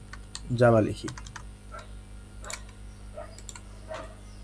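Java code being typed on a computer keyboard: sparse, soft key clicks at an uneven pace, with a brief voiced sound near the start.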